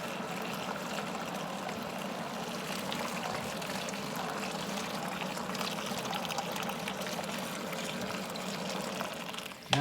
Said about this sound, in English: Now in goes the liquid malt extract